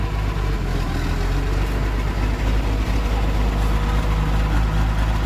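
An old smoking car engine idles steadily, a constant low rumble with loud continuous mechanical noise and no speech.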